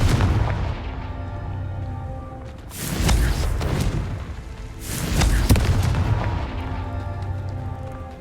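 Two booming Confringo spell explosions from a Harry Potter game erupt a couple of seconds apart, each a loud broadband blast that decays into rumble, over a steady low game ambience.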